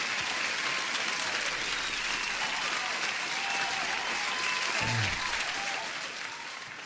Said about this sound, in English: Huge applause for Jan for helping us out with this technical stuff.